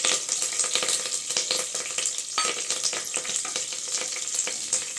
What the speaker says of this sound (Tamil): ஜீரகத்தை நல்லா கொஞ்சம் கிண்டி விட்டுக்கலாங்க.